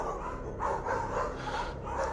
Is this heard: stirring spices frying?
no